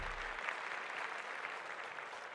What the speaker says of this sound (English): Round of applause for Megha.